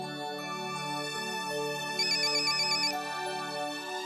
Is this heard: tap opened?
no